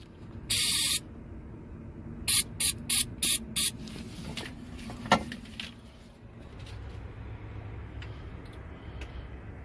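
Starting fluid is sprayed into the air intake of a truck's refrigeration reefer unit in short hissing bursts: one longer blast, then four quick spurts in a row, close up over a low mechanical background.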